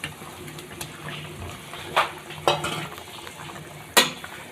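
Fried tomatoes being added and stirred into a simmering fish curry in a pan, with soft bubbling beneath a few sharp utensil scrapes and clatters, no talking.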